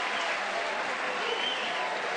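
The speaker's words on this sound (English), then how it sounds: "that Hawaiian crowd, they've got to be really excited right now" A Hawaiian crowd at the 2005 Little League World Series championship game cheers and claps in a dense, even roar that holds steady without letting up.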